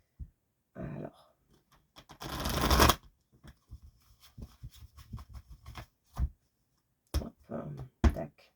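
A deck of tarot cards being shuffled and cut during a reading, with a loud riffle burst, scattered card taps and slaps, and someone speaking briefly in French between the handling sounds.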